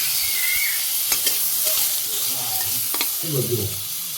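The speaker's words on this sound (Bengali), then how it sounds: "কড়াইতে আমি সামান্য তেল দিয়ে দিচ্ছি আর একটু সরিষা দিয়ে দিলাম" Oil, mustard and water sizzle and crackle in a kadai in a Bangladeshi village kitchen as a spoon stirs them, with scraping strokes heard up close over the steady frying hiss.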